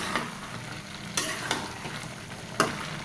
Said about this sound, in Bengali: খুব সুন্দর মতো ফুটতেছে